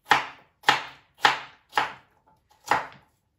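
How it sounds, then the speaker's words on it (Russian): A knife cutting potatoes into cubes on a board, five crisp close chops in an even rhythm with a brief pause before the last, no talking. "нарезать кубиком."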